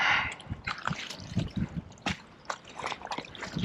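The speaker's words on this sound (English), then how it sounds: "I'm going to get a little bitty trickle of water going too." A small trickle of water runs from a hose or spout onto the ground, giving uneven close drips and splashes that come in irregular bursts, with no talking.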